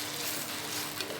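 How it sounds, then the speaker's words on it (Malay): Tomatoes are stirred into a hot pan while making spaghetti bolognese, a close steady sizzling hiss with soft scraping, brief and continuous, with no talk. "Okey, masukkan semua tomato tadi dan kacaukan dia"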